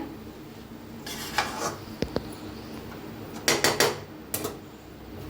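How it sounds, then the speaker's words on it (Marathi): A metal spoon scrapes and clinks against a pan while potato and cabbage sabzi is mixed with masala, a few sharp knocks and rubbing strokes standing out against quiet kitchen background. "छान असं मिक्स करून घ्यायला म्हणजे सगळा मसाला आपला लागतोय"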